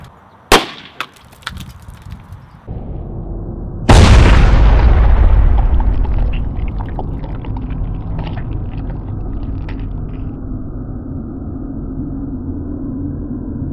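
Explosive charges set off for a high-speed camera shot: a sharp pop near the start, then a much louder boom that rumbles and slowly fades over several seconds, with no talking.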